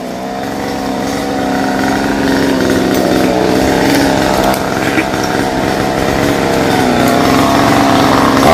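A chainsaw runs steadily through branches of a large rain tree, its high buzzing engine loud and close for the whole stretch with little variation.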